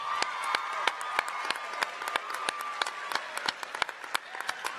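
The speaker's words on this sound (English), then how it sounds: "Let's give Alex a round of applause." An audience at a school assembly for the Mars 2020 rover name reveal breaks into applause, a steady crowd clapping with sharp individual claps popping out above the wash and a faint tone held underneath.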